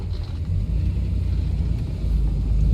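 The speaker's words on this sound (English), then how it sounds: "it's the Austin Healey 3 litre 6 engine in it, which does make a pleasant sound" A 1959 Alvis TD21 fixed-head coupe with an Austin Healey 3 litre six-cylinder engine and 4-speed manual gearbox, giving a deep, steady low rumble, close and continuous with a slight swell toward the end.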